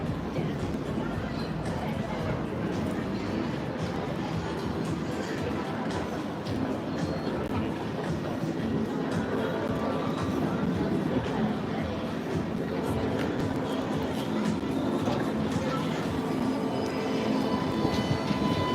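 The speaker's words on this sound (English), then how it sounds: "This is the first tram in about 7 minutes or so." A Sydney light rail tram arrives at the Clock Tower stop in Martin Place at rush hour, with a continuous rolling rumble mixed into the murmur of a dense, chattering crowd on the platform.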